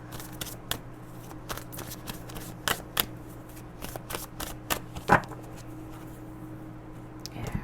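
Tarot cards being shuffled and handled, a run of sharp, irregular riffling snaps and soft flicks over a steady low hum, with one louder slap near the end.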